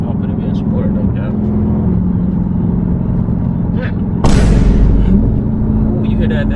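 A Dodge Scat Pack's engine drones steadily from inside the cabin in sport mode, then a sudden loud downshift blip bursts in with a sharp rise in revs and hiss before settling back to a lower, continuing hum.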